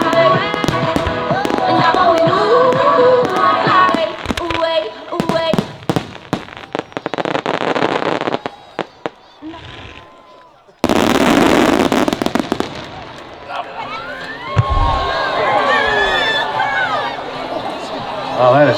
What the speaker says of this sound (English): this is definitely got to be the second best fireworks show ever.